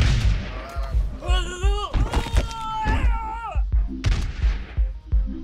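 Musket volleys in the battle game Totally Accurate Battle Simulator crack out as a string of sharp gunshots, several overlapping, under steady excited talk and high cartoonish game voices.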